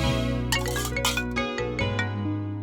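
A phone ringtone sounds for an incoming call, a loud, close melodic electronic tune with repeated bright tones and no talking over it.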